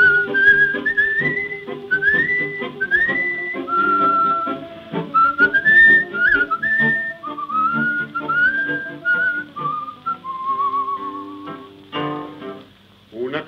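A person whistles the melody of a tango, clear and close, with sliding notes in a steady phrase-by-phrase rhythm and a faint backing underneath.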